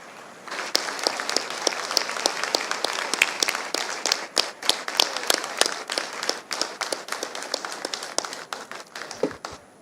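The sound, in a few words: audience applause for a leader at a closing ceremony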